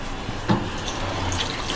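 Water runs steadily from a kitchen tap into a sink, a brief splash near the start, close and moderately loud.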